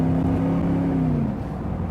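A Mercedes SLR McLaren 722 Edition engine pulls hard in a steady, loud drone from inside the car, its tone sliding briefly before settling into a rough rumble, with no voices.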